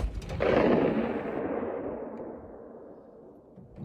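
A single loud rifle shot from a CVA Cascade chambered in 6.5 PRC, fired with factory ammunition, booming sharply at first and then rolling off in a long, fading echo, with no talk.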